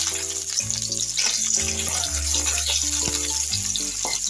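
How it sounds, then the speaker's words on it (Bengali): Chopped onion hisses loudly as it fries in oil tempered with five-spice, a close, steady sizzle under tuneful background music. "ফোড়নে দেখো এখানে পেঁয়াজ কুচানো দিয়ে দিলাম"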